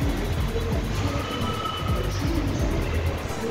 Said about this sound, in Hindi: सब मेट्रो आ रही है।